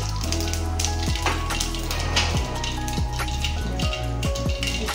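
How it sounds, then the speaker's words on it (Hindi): Mustard seeds crackle and sizzle in hot oil, a busy, close frying hiss heard alongside a looping, rhythmic musical backing with repeated low thumps. "अभी क्या कर रही है जागृति? ओके तेल में राई डाला"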